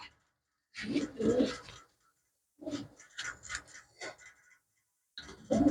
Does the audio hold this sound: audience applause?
no